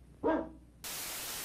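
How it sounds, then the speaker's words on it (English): A single sharp dog bark from the VR shooter game Pavlov, followed by a burst of steady hiss-like static. "Sit, Ubu, sit. Good dog."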